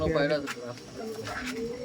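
Old Madras pigeons coo softly at close range in a brief low burble, with a voice speaking over them.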